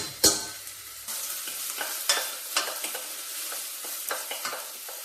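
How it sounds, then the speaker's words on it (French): Vegetables softening in a pan as the base for a creamy mushroom soup, with a soft frying sizzle under a few scrapes and clacks of a utensil stirring, steady and close with no talking. "On laisse cuire tout ça jusqu'à ce que ça soit légèrement coloré, légèrement fondu."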